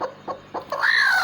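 A brooding hen clucks three short times at a steady pace, then gives a longer rising-and-falling vocal call, close and fairly quiet.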